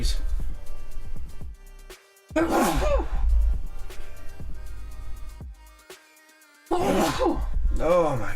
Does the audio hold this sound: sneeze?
yes